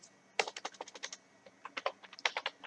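Fingers type on a computer keyboard close to the microphone in quick irregular bursts of crisp clicking key presses with short pauses between them, and no talking.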